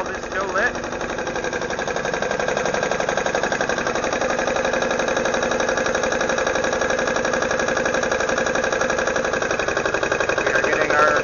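A small stand-alone generator engine runs steadily at a constant drone, loud and close, with a faint voice briefly underneath.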